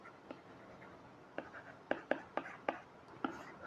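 Chalk or marker writing on a board during a maths lecture, a series of short scratchy strokes tapping out in an irregular rhythm, close and fairly faint, with soft whispery breathing around them.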